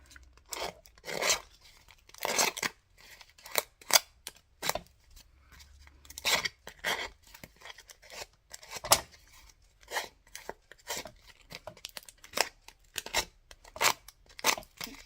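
A paper tag's edge being roughened and distressed with an edging tool, giving a run of short, dry scraping and tearing strokes in quick irregular bursts, close and fairly quiet, with no talking.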